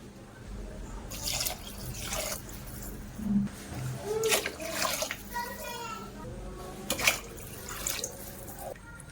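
Water is poured into a pot for moong dal khichdi, giving quiet, intermittent splashing bursts against a low background.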